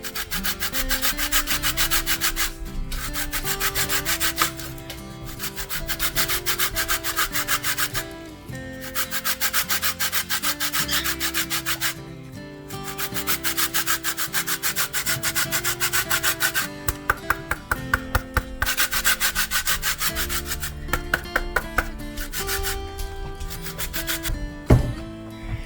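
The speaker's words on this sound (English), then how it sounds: "I'm gonna zest some lemon." A lemon is zested on a grater in a kitchen, with close, loud rhythmic rasping strokes repeated in bursts and short pauses between runs.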